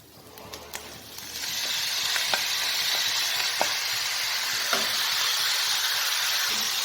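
Chopped ivy gourd tipped into a hot pan with turmeric for thoran bursts into a loud, steady sizzle after a second of quieter clatter, with a few sharp stirring clicks scattered through the close, continuous frying hiss.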